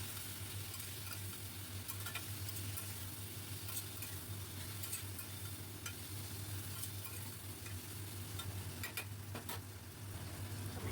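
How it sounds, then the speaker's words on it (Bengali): Turmeric and salt marinated prawns fry in a pan for a Bengali ridge gourd prawn curry, giving a steady, close, continuous sizzle with faint stirring scrapes throughout. "এবার দিয়ে দিলাম নুন হলুদ মাখানো চিংড়ি মাছ। বেশ কিছুক্ষণ এইভাবে ভেজে নিয়ে"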